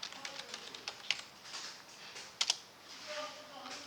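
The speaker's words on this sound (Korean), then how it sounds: "거래처 플러스 키 누르고 성동1이라고 치시고" Keys on a computer keyboard are tapped while entering data into accounting software, giving quick, light clicks in irregular bursts with a couple of sharper keystrokes, fairly quiet and close.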